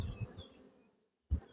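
Honeybees at an opened hive frame give a close, brief buzzing hum that fades into near silence, then another buzz bursts in.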